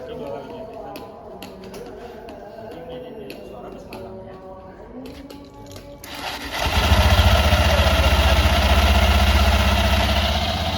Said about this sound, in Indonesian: saya akan mencoba menghidupkan motor